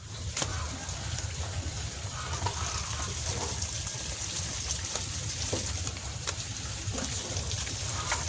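Water is poured steadily into a container while mixing a plant hormone spray, a continuous close splashing and trickling flow that runs unbroken throughout.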